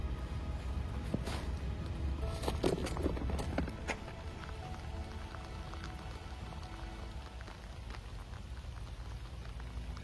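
Rain pours steadily on a public fishing pond in Machilly, France, a constant soft patter of drops with a few sharper taps near the start, continuing evenly throughout without speech.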